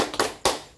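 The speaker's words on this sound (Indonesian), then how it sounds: "kita tepuk semangat dulu ya" A group performs a rhythmic spirited clap during a training session, a few sharp, close hand claps in quick succession.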